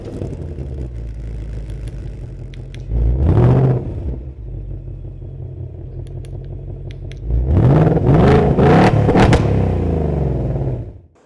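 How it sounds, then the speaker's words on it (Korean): A Ford Mustang sits parked while its remote start revs the engine twice, two loud rising exhaust blasts over a steady idle rumble, heard from close by with no talking. "리모컨을 통해서 차량의 원거리에서 이제 시동을 켜는 것뿐만 아니라 이 RPM 회전수를 높여서 강력한 배기음을 즐길 수 있는"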